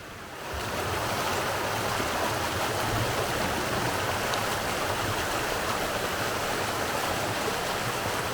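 A river flowing steadily at a popular swimming spot with cold water and shady trees, a broad, continuous rushing wash that stays loud and even throughout, with no voices.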